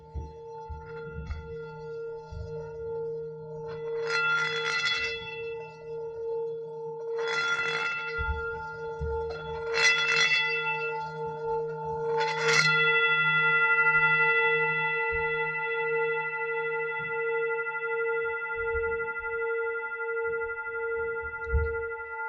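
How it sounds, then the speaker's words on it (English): A Tibetan singing bowl is struck four times at even intervals, each strike giving a bright metallic ring over a sustained low hum, with the final tone lingering long and clear in a quiet room. "It's a Tibetan singing bowl, actually, not a bell."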